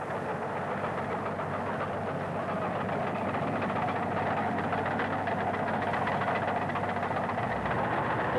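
A Hanomag K60 tractor from the 1950s works under load, its engine giving a steady, rough, knocking drone that stays constant throughout.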